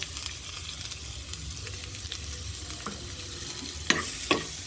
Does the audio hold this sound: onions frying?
yes